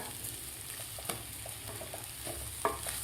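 Khichdi being stirred in a pan over a soft sizzle, with a few sharp clicks of a spoon against the pan.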